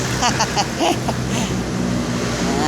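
A small 49cc grass cutter engine fitted to an e-bike scooter runs steadily up close with a buzzing, raspy drone, with brief chatter mixed in.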